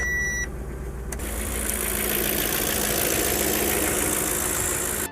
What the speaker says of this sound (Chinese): 启动车子让其怠速一段时间。